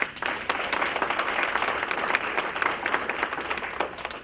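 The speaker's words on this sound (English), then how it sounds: "Let us give Australia a big round of applause." An audience at an International Women's Day forum breaks into sustained, even applause, many hands clapping together at a fairly close, full level throughout.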